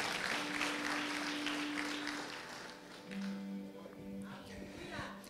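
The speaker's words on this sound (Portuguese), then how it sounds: "Pode dar uma salva de palmas para o Senhor Jesus." Church congregation applauding during a worship service, a soft, diffuse patter of clapping heard at a distance with faint tones and voices mixed in.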